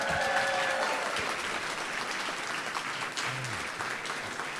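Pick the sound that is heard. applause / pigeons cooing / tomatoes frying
applause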